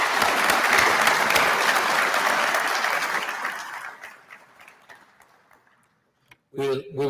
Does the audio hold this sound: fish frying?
no